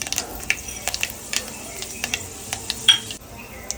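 Dried red chillies, mustard seeds, cumin and fenugreek sizzle in hot oil in a pot, a soft steady hiss punctuated by sharp pops and clinks of a stirring utensil.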